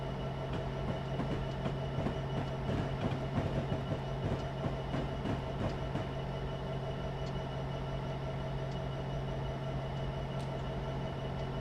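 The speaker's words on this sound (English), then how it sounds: "getting pretty close to coupling up here to the rest of the train" An EMD SD75 diesel locomotive in Train Simulator 2017 rumbles steadily with a deep engine drone and faint rhythmic clatter of wheels, continuous and fairly loud, with no voices.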